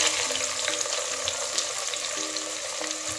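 Onions sizzle steadily in hot oil as they go in for a Nizamabadi dum ka gosht, a dense, continuous crackle close by with no talking.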